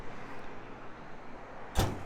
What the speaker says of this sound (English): the engineers would work on the sound of the doors closing on cars like this